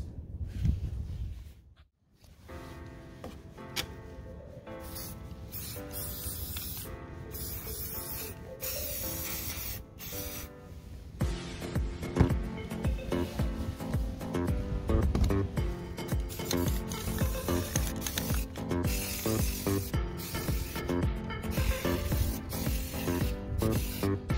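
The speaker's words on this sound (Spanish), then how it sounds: "voy a utilizar este spray" Aerosol can spraying white paint outdoors in windy conditions, a loud, close, continuous hiss that runs almost nonstop, with brief breaks and renewed bursts.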